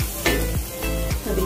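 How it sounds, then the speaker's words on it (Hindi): Spices for ragda chaat roasting in a hot pan give a steady close sizzle, broken by a few stirring scrapes that briefly lift the crackle. "अभी ये भी हमारे मसाले अच्छे से भून चुके हैं।"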